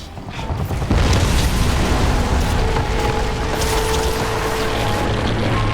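Heavy explosions and rumbling debris fill a futuristic war video game battle, with a deep boom bursting in after a second and a dense, sustained roar of blasts and mechanical noise continuing loudly.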